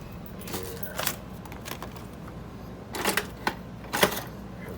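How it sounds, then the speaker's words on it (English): A metal multi-tool being picked up, giving a few short, light metallic clinks and rattles spread across the moment, close by and moderately quiet, during tension wrench making. "I'm gonna just grab my multi-tool."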